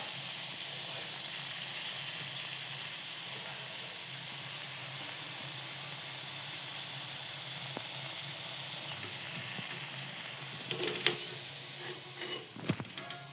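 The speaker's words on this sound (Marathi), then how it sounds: "एक साईडला पुऱ्या पण तळून घेतोय" Puris deep frying in hot oil for a spicy Maharashtrian matar masala meal give a steady, even sizzle and hiss throughout, with a few sharper crackles and spatters near the end.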